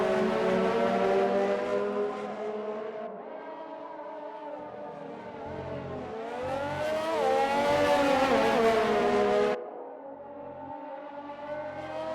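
Renault race cars in a racing game roar past with whining, high-revving engines that rise and fall in pitch as they pass, continuous and loud.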